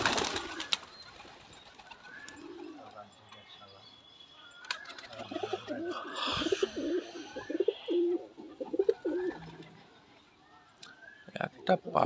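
A pigeon cooing nearby in soft repeated low coos, heard among a person's frequent talking and calling, with some handling noise and clatter.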